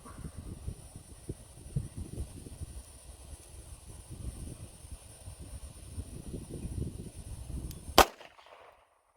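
A single sharp gunshot from an Iver Johnson Cadet 55S-A .22 Magnum revolver, fired outdoors after a long stretch of low wind and handling noise, a loud sudden crack with a short fading tail into silence.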